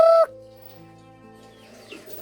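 A startled chicken gives one sharp, loud squawk as someone tries to catch it at a house yard, then quieter clucks and faint background noise follow.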